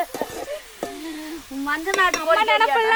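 Chicken curry with turmeric sizzles and is stirred in a hot pan, with scraping strokes and a voice speaking over the frying.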